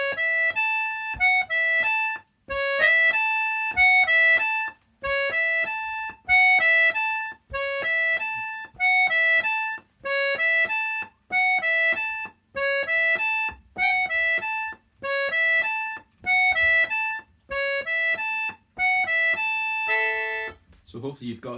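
Opening bars of a tune on accordion: short bright chords pulsing in an even repeated phrase, clear and near, with brief gaps between bellowed bursts, then a final held note.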